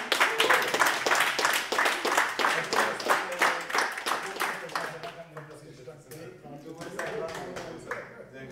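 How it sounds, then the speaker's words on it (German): A small group applauds at the award ceremony closing a boxing training camp, with brisk, distinct claps in a quick rhythm for about five seconds before tapering off into scattered voices. "Applaus bitte."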